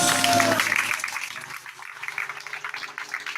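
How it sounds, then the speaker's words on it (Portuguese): Applause for Jesus at a church service, a broad wash of crowd clapping that swells early and then thins, with some music or voice tones lingering beneath at the start. "Dê uma salva de palmas bem forte a Jesus"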